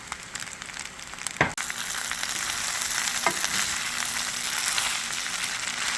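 Rice stir-frying with sesame oil in a hot pan, sizzling and crackling, a steady broadband hiss with a sharp clank of a utensil early on and occasional scraping stirs.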